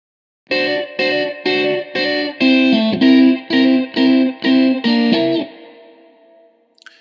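Crunchy electric guitar preset from an Evolution Stratosphere keyboard, with about a dozen evenly spaced, punchy chord stabs in a steady rhythm before a final chord rings out and decays, played alone.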